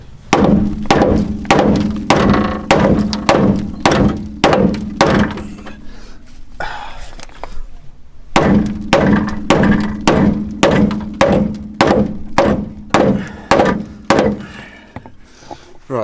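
A hammer pounds the steel chassis leg of a Mk4 Ford Escort van in a steady run of loud, close metallic blows, pausing briefly before the rhythmic strikes resume.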